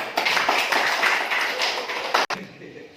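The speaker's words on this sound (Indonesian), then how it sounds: "Tepuk tangan untuk Pak Sinaga." Applause in a seventh-grade junior high classroom, a dense patter of many hands clapping together at moderate loudness for about two seconds, ending abruptly before a quieter pause.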